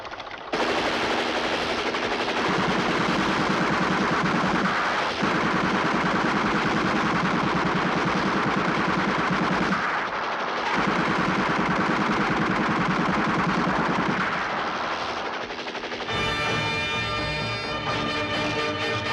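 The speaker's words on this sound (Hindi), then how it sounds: "तूने हम पे गोली चलाई ना" Sustained gunfire and rapid machine-gun bursts dominate a Hindi action film scene, loud and nearly continuous with brief pauses, ending in a ringing metallic rattle of shots; no speech is heard.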